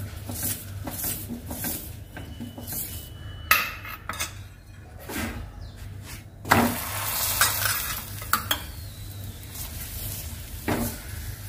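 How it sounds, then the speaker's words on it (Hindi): Oil being brushed onto an aloo paratha on a hot pan, with steady frying sizzle and scattered clinks and scrapes of utensils against the pan, close and fairly loud. "अब पराठे में तेल लगा देते हैं।"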